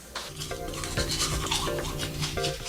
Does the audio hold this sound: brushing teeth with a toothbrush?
yes